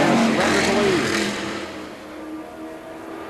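Can-Am single-seat sports racing cars pass at speed, an engine roaring loudly then fading away as the car pulls off into the distance, with a second engine droning faintly behind.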